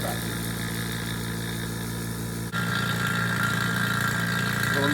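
An HVAC vacuum pump starts up with a sudden shift in tone and then runs with a steady, noisy mechanical drone and vibration, close and continuous.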